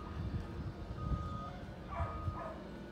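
A dog available for adoption gives several short, faint yips and barks spread over a few seconds outdoors, with a person's voice nearby.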